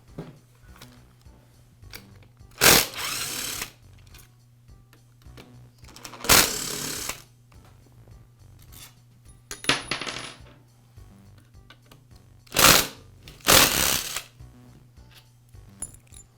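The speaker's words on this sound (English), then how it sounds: "On the other side of the sander, there's 3 more screws that you'll need to remove." Screws come out of a Porter Cable belt sander housing. Four or five short, sharp metallic clinks and rattles ring out several seconds apart over a quiet background.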